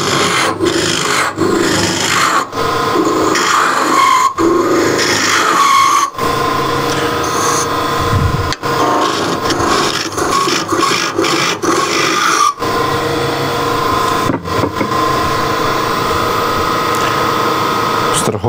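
A spindle gouge hollows the end grain of a wooden scoop for sugar or coffee on a lathe, a loud continuous rasping scrape with short regular breaks as the tool lifts off the spinning wood.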